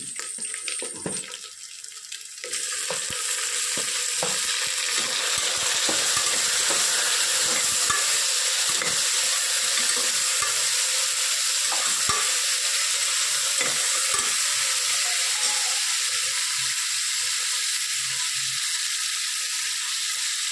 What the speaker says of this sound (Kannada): ಈಗ ಹಚ್ಚಿರುವಂಥ ಟೊಮೆಟೊ ಹಾಕ್ತಾಯಿದ್ದೀನಿ, ಉದ್ದುದ್ದು ಹಚ್ಕೊಂಡಿದ್ದೀನಿ